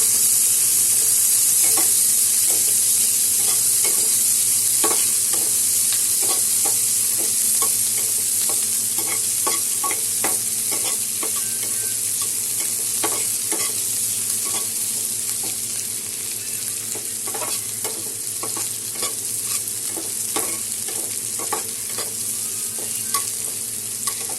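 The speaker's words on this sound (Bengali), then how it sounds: "পেঁয়াজটা মোটামুটি ভাজা হয়ে গেছে।" A large onion fries in oil in a pan while being stirred, giving a steady loud sizzle with regular scraping strokes of the spoon throughout, no talking.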